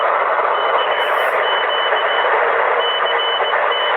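Steady, continuous tone-keyed beeps of Morse code at about 12 words a minute over loud, hissy 11-meter CB radio static, with no pauses in the noise.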